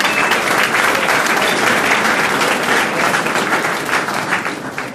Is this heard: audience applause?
yes